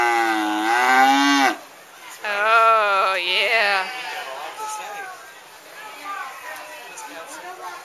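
A cow moos loudly and close by, a long drawn-out low call followed by a second shorter moo, then softer bovine sounds while people chatter nearby.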